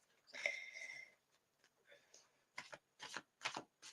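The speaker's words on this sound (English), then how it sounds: "I'll give them a couple of shuffles first." Tarot cards are shuffled in several quick riffling bursts, close and crisp, following a brief stretch of soft talking.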